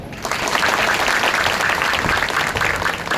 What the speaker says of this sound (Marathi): म्हणून या सगळ्यांकरता एकदा टाळ्या वाजवा.